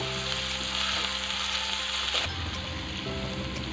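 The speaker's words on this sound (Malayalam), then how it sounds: "ഇതിൻ്റെ പച്ചമണം മാറുന്നത് വരെ വഴറ്റി കൊടുക്കുക" Ginger garlic paste sautéing in hot oil in a pan for Kerala-style Malabar beef curry, a steady close sizzle with faint scraping, shifting slightly as it is stirred partway through, with no talking.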